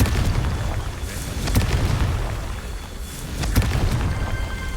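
Confringo blasting-spell explosions in the Hogwarts Legacy video game, deep rumbling booms with sharp bursting cracks, two main blasts about two seconds apart over a dense low roar, without speech.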